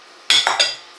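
Utensil scraping and clinking against a bowl while mixing flour with a cornstarch mixture for pastry cream, a short burst of two or three close strokes that fades quickly.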